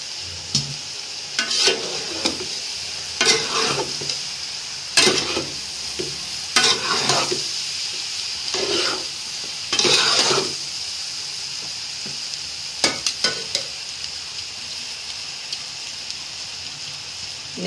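Rice stir-fried in a pan with vegetables, eggs and chicken: repeated scraping stirs come at an irregular rhythm over a continuous frying sizzle, close and moderately loud.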